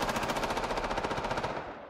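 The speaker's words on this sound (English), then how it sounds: "Whoa, that's a lot of gunfire." Heavy automatic gunfire in the zombie survival game Project Zomboid: a loud, continuous rapid rattle of shots, steady for most of the span before easing off slightly at the end, with no talking.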